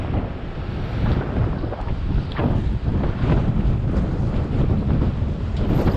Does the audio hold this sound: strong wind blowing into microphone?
yes